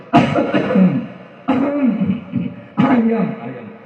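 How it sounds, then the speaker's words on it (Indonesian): Three bursts of harsh, throaty coughing, each a rough fit of several hacks, close and loud, separated by short pauses. "Balik lagi saya batuk-batuk."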